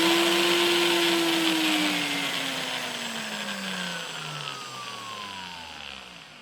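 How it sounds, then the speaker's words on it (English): A blender whirs loudly and steadily while roughly blending crayfish and pepper, its motor pitch sliding gradually lower as the load thickens, running continuously with no talking. "I'm just gonna blend that kind of roughly,"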